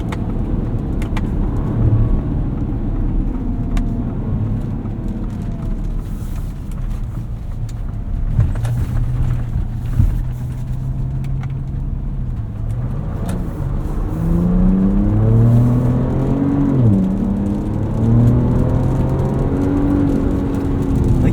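A 2024 Ford Ranger Raptor on 34-inch Yokohama Geolandar tires rolls over a dirt track, its engine hum and steady tire roar continuous and close, with rising revs and gear changes toward the end.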